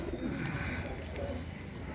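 A male Madrasi pigeon with golden eyes coos softly in low, rolling murmurs, close by against a quiet background.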